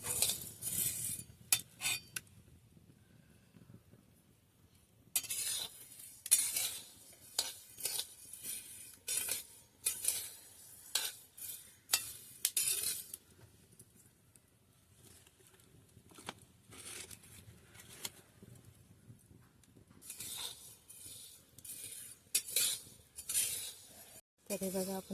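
Horse gram (kulith) dry-roasting in a pan in a Konkan village kitchen, heard as bursts of rattling, clinking grains and utensil scraping that come and go irregularly, with quieter gaps between them.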